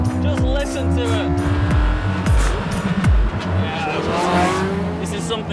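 A Porsche 918 Spyder hybrid supercar accelerates hard on a hot lap, its engine note climbing through quick gear changes with tire noise, loud and close from inside the car while someone talks over it.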